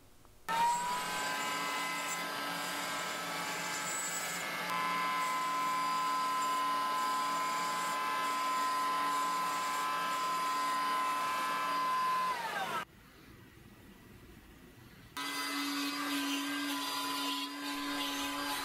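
PantoRouter with a mortise-and-tenon template cutting a 1/8-inch wedge slot in wood for Krenov-style sawhorses, a high steady whine running for about twelve seconds, stopping briefly, then starting again.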